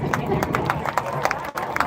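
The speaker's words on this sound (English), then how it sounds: "They all deserve a round of applause." An audience claps in scattered, uneven bursts, close and fairly loud, with a faint voice underneath.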